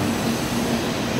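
A Shinkansen high-speed train departs Kyoto Station, giving a steady loud rolling rumble with a sustained hum through the short span and no talking.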